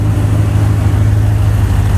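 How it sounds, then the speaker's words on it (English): A Datsun 280Z engine idles steadily close by, with a low, rough, uneven exhaust rumble throughout from an exhaust leak at an unbolted muffler. "it's probably got a little exhaust leak where I don't have the muffler bolted"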